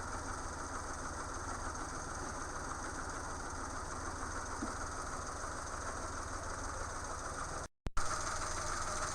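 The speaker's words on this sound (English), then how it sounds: "Now that I verified that my car is idling at the proper RPMs" A 1985-86 Chevrolet Sprint with a carburetor and manual transmission idles at about 750 RPM, giving a steady, even engine hum that runs without a break apart from one brief dropout near the end.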